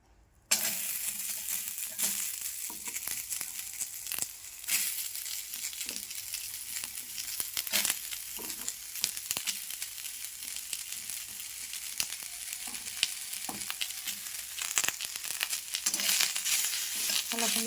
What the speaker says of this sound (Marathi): कांदा टाकते कढईमध्ये.